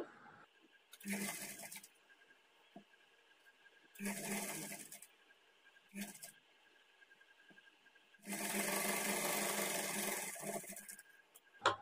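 A sewing machine stitches plain blouse pieces in four separate runs of a few seconds each, the last and longest running about three seconds, with quiet pauses between.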